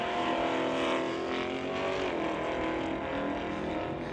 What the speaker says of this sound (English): Truck just spinning, getting not a lot of traction there.